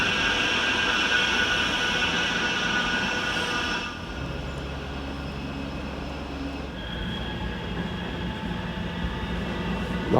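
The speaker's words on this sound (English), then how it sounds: "You'll see the trams passing as we" Trams rumbling past near the Castlefield viaduct in Manchester, a loud continuous rail roar with a lower rolling drone partway through, heard close by without talk.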